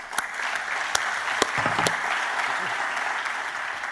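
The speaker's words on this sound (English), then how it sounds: "A round of applause, please," Audience applause for a conference panel on pharmaceutical manufacturing, a steady wash of many hands clapping at moderate distance, with a few sharper individual claps standing out.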